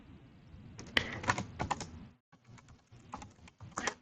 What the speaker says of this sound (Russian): Вводим пароль администратора.